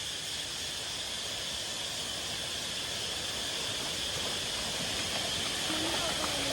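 A large waterfall on Kotebetta in Coorg pours over rocks, a constant rushing roar of water that fills the scene evenly and steadily from start to finish.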